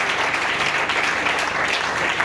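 A church congregation claps continuously for a couple of seconds, a dense, even wash of many hands.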